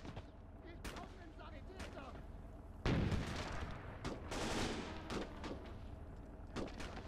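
Machine gun fire and artillery in a World War II style battle in the video game Gates of Hell, with bursts of gunshots and heavy booms, one loud blast near the middle, over continuous battle noise.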